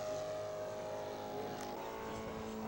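A Saito 300 engine on a large scale model aircraft coming in for a touch-and-go, a steady buzzing drone with a faint whine at middling distance, constant throughout, with no talking.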